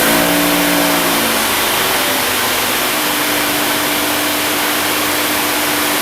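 A Ryobi 3000psi electric pressure washer sprays through a 25-degree tip, giving a loud, steady hissing rush of water with a motor whine that shifts in pitch at the start, continuous and close.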